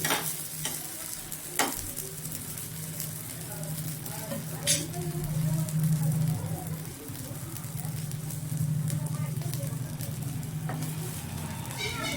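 A chilla pancake fries in a pan after being flipped, a soft, steady sizzle with a low background hum and a few sharp clicks of the spatula, fairly quiet throughout.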